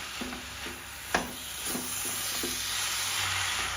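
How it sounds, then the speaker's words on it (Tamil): Amla gooseberry pickle fries in oil while being stirred in a pan, a steady close sizzle punctuated by repeated scraping strokes of a spoon, one sharper clack near the start. "அது வரைக்கும் நம்ம அதை நல்லா கிண்டி விட்டுக்கிட்டே இருக்கணும்."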